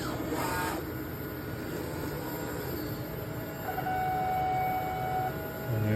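A Superieur 620 Pro printer running a nozzle check gives a steady mechanical rumble and rattle with faint whining tones, the carriage noise swelling slightly partway through and continuing without voices.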